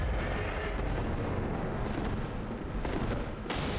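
Gunfire from a pistol in the video game Bloodborne, during the Rom the Vacuous Spider fight at Byrgenwerth, comes as heavy booming blasts over a dense, loud game soundscape, with a sharp burst near the end.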